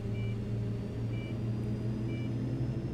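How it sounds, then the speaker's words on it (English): Steady low engine rumble of airport ground traffic in an airport ground handling sim, with a faint beep recurring about once a second over the continuous drone; no talking. "I don't know why planes are making noise."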